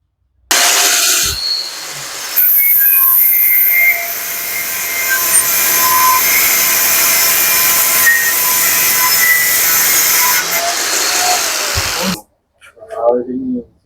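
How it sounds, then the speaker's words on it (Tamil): A Progen 9101-HG angle grinder cuts through iron with a continuous loud, harsh whine lasting about twelve seconds, then stops abruptly, followed by a brief clatter. "இப்போ நம்ம இந்த இரும்பு கட் பண்ணியாச்சு"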